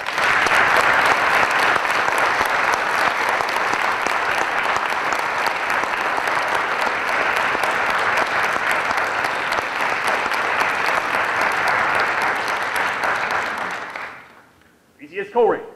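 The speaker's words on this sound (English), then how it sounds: "Please join me in a round of applause for your future Marines." An audience at a high school military signing ceremony claps loudly and steadily for future Marines, a dense wash of applause that holds for about fourteen seconds before fading out.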